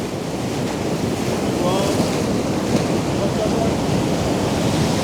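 Big ocean waves surging onto a rocky Central Coast shoreline near Sydney at sunrise, a loud continuous roar of surf with heavy wind rumble across the microphone and no pauses.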